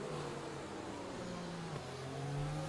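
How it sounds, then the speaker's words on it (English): A race car engine in a sim racing game hums and whines continuously, with shifting pitch as revs rise and fall and a brief gear change. The tone is steady and moderately loud. "I can hear another car"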